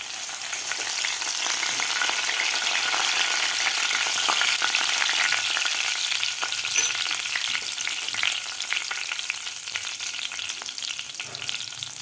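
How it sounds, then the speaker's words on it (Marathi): Mustard seeds and curry leaves fry in hot oil with a dense, crackling sizzle and scattered pops, close and steady throughout with no talking. "तेल आपलं गरम झालेलं आहे यामध्ये घालायचे आपल्याला अर्धा चमचा मोहरी मोहरी आपल्याला व्यवस्थित फुलू द्यायची आहे"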